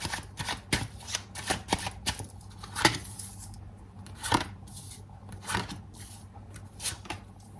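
Tarot cards are shuffled and drawn by hand, close and quiet, in a steady run of crisp riffling snaps and soft slides with no speech.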